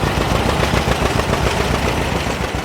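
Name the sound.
Massey-Harris 44 vintage tractor engine running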